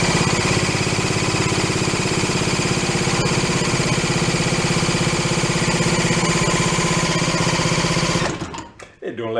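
A 1937 Waterwitch outboard boat motor, decades unused, runs flat out at full throttle with a loud, steady, buzzing high-rev drone that holds for about eight seconds, then cuts off abruptly and sputters down.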